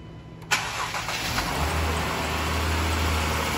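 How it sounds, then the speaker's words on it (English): A Dodge Durango with a 3.6 Pentastar V6 and a busted oil cooler cranks with a sharp catch, then settles into a steady, even idle that runs loud and close, with no talking. "As you see, the engine runs great."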